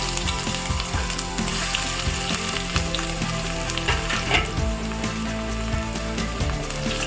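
Garlic sizzles in hot oil in a kadai, a steady close crackling fry with occasional stirring clatter and no talking.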